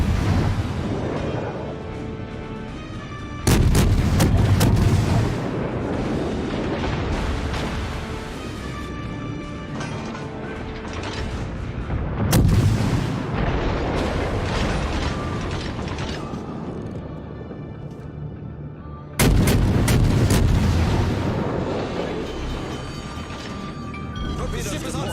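Main guns of the Japanese tier II cruiser Chikuma firing in World of Warships, three heavy booming salvos spaced several seconds apart over a constant engine and sea rumble, with talk between shots.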